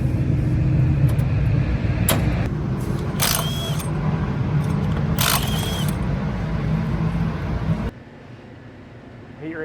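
Race cars roar down the straightaway at Albany Saratoga Speedway, a dense engine drone heard from afar with a couple of sharp camera-like clicks before the sound drops off abruptly near the end.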